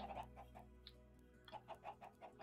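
Chickens in the video game Minecraft Bedrock cluck in short repeated bursts, a quick run of clucks, a brief high squawk, then a steadier series of clucks, moderately close over faint background game sound.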